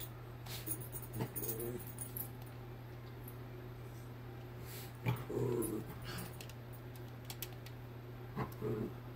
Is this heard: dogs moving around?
yes